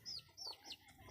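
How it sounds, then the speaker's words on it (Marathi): Chickens clucking softly on a country poultry farm, with a few short, faint calls in quick succession at a distance. "इकडं कोंबड्या अशा फिरत आहेत"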